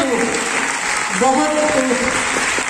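A mushaira audience applauds poetry with brief, dense clapping mixed with voices, as listeners murmur and call out appreciation throughout.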